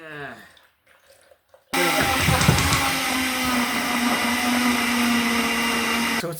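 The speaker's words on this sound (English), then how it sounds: "I'm just gonna throw some of this into my blender that really isn't the greatest fucking blender in the world." A kitchen blender mixing a banana smoothie starts abruptly after a brief spoken line and then whirs loudly and steadily for several seconds before cutting off, a strained, grinding roar close to the microphone.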